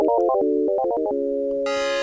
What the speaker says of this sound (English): There's a square wave,